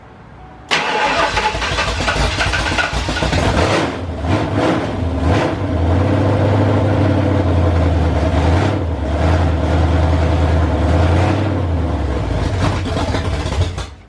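A Ford 351 Windsor V8 cranks and fires on its first start with heavily retarded timing, catching abruptly and running with a loud, rough, throbbing rumble that holds close and steady, rising slightly as it is idled up.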